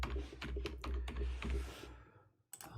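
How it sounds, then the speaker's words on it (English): Keys clatter on a computer keyboard in a quick burst of close, light taps, then a pause and a couple more clicks, with a low hum underneath. "So type in multiply."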